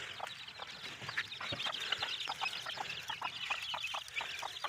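Chickens and chicks cluck in a steady scatter of short calls, close by and fairly loud, with soft chick peeps woven through a continuous farmyard backdrop.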